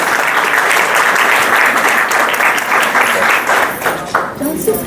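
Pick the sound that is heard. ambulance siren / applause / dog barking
applause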